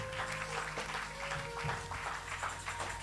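A church congregation applauds during a sermon, a rough patter of clapping running for a few seconds with a sustained tone and background voices mixed in.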